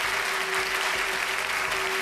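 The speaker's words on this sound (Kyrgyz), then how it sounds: "кол чабалар сизге." An audience at a Kyrgyz folk song performance applauds in a dense, steady burst of clapping from many hands, close and loud throughout.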